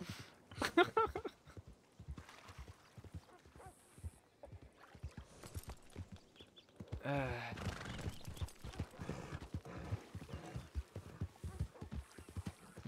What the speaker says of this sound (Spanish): Tengo un caballo y sé cómo usarlo.